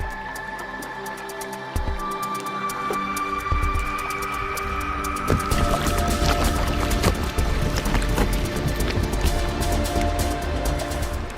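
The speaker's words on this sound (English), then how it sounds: "There's icebergs floating in the water, the sound of bubbles popping, the sound of ice grinding against itself." Icebergs float in a cove jammed with ice beneath glacier-covered mountains, with scattered crackling pops of bubbles and faint grinding ice over a steady watery wash that grows busier partway through.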